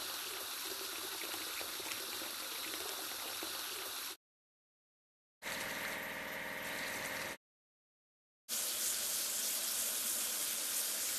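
Water spraying onto a fire engine during a washing task in a kids' transport video game, a steady hissing gush in three bursts separated by brief silent gaps.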